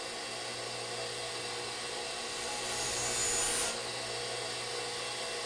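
A core drill cutter is sharpened on its front edge, a steady grinding rasp with a motor hum running throughout, rising briefly louder near the middle, close and without talking.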